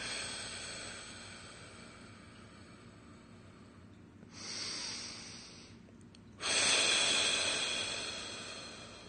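Slow, deep breaths during a calming relaxation exercise, a soft airy inhale swelling midway and a louder, fuller exhale near the end, close and with no talking.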